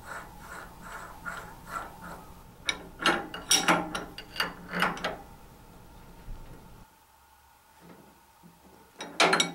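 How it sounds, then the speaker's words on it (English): Wrench clicks tighten the nut on a table saw arbor pulley, a run of sharp ratcheting clicks in bursts near the microphone, then a quiet pause and a final clatter of metal. "And then I can reinstall and tighten the nut."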